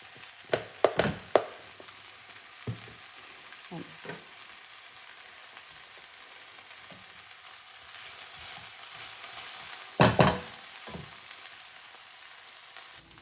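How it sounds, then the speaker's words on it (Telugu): Onions with turmeric fry in a pan, giving a steady close sizzle broken by a few sharp clinks and scrapes of stirring. "తొందరగా మన ఆనియన్స్ ఫ్రై అయిపోతాయి. ఇట్లా రెడ్గా ఫ్రై అవ్వాలి."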